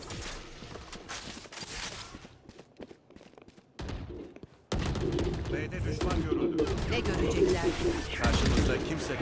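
Rapid bursts of Vandal rifle fire in Valorant crackle through a busy match, with a quieter stretch of scattered shots giving way to louder sustained firing and mechanical game sounds, while a voice talks over much of it.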